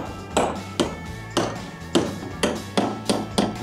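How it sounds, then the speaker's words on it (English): Hammer striking a chisel to drive out keel bolts on a sailboat hull, eight sharp metallic knocks in a steady, slightly uneven rhythm, close and loud. "Now I'm gonna see if I can do the same thing with some of the bolts."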